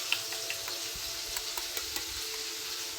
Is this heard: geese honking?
no